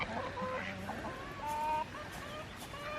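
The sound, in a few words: chickens clucking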